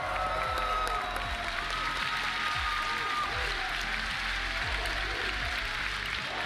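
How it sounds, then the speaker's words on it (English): An esports arena crowd at the ESL One Stockholm 2022 grand finals applauds team OG, a broad, continuous wash of clapping and cheering heard from a distance, with dull low thumps recurring underneath. "we make one last round of applause for Taiga, No-Tail, and the rest of OG"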